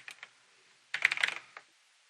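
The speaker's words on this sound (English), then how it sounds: "So we're going to type training into here." Typing a word on a computer keyboard: a few light key taps, then a quick run of close, crisp keystrokes and one final tap, alone in a quiet room.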